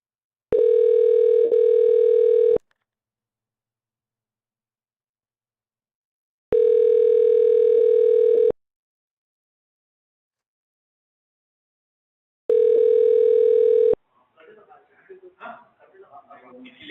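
A Google Voice phone call connecting: three long, steady ringback tones, each about two seconds, separated by silent gaps, followed by faint, muffled voice on the line.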